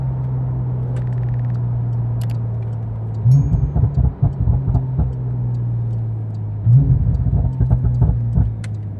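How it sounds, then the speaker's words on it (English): Porsche 911 Turbo S on an 850 hp tune with a Valvetronic Designs valved sport exhaust, heard from inside at low RPM: a steady deep exhaust drone with two surges that bring bursts of crackle and turbo blow-off chatter. "You guys are gonna hear as well right here the blow-off valves just right behind your head."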